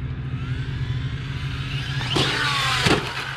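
An Arrma Infraction RC car drives on a street, its electric motor whining steadily before a sharp rising rev and a clattering landing from a jump, close by.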